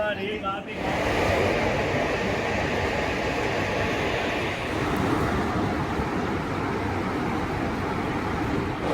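A passenger train between Madurai and Karaikudi rattles steadily along the tracks with a constant rumbling roar, while someone speaks over the noise.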